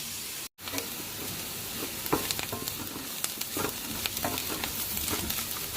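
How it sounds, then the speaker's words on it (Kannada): Onions fry in a pan with a soft, steady sizzle, broken by scattered clicks and scrapes of stirring, close and moderately quiet with no talking. "3-4 ನಿಮಿಷ ಫ್ರೈ ಮಾಡ್ಕೋಬೇಕು. ಆವಾಗ ಈರುಳ್ಳಿ ಚೆನ್ನಾಗಾಗುತ್ತೆ."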